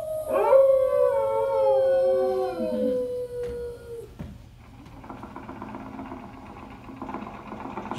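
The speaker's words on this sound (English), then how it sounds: "using that old exercise machine she rescued from the attic" An old 1920s exercise machine runs on the Carousel of Progress stage show, heard as a steady mechanical whir and rattle under a faint room hum. It comes in after a long, wavering howl-like tone fades out.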